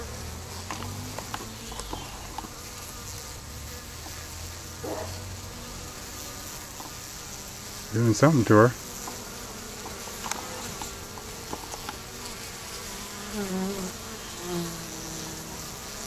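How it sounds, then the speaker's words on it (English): Honeybees buzz steadily around a balled queen, a close, continuous insect hum with a brief louder swell of wingbeats near the middle, while a voice murmurs faintly. "Now I've got a bee on my camera."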